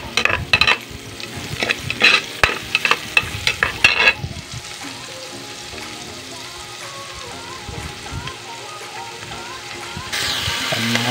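Onions frying in a pan for a home-cooked tuna pasta, with stirring scrapes and clatter through the first seconds, then a steady close sizzle underneath.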